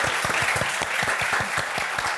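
A theatre audience claps in a dense, steady stream of applause that lasts the whole moment, with no voices standing out above it.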